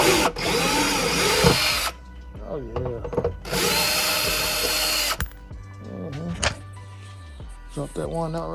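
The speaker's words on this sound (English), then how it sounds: "Let me turn my drill the other way so we can get that." A handheld power drill running in reverse while working on the front splitter of a Ford GT500, sounding in several loud whirring bursts with pauses between them. Someone talks during the gaps.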